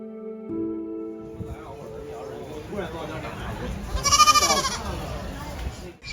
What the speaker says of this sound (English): Nearby, I saw some stalls selling goats, pigs, and ducks.